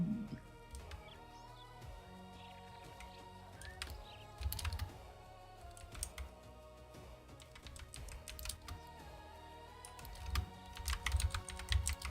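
Rapid, irregular clatter of fingers on a computer keyboard, close and crisp, with bursts of keystrokes separated by short pauses and no one talking.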